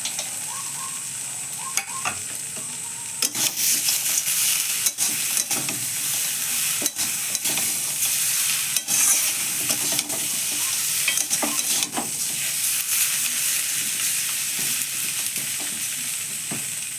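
Potatoes and peanuts stirred and frying in a pan for a spicy dosa chutney: a loud, steady sizzle with frequent scraping and clinking of the spoon against the pan, close up, no talking.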